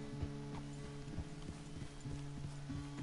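Horse hooves clip-clopping at a steady walking rhythm in the video game Red Dead Redemption 2, mixed with faint tack and mechanical creaks under a low background music drone.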